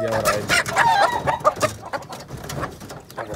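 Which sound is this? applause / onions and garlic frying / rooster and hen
rooster and hen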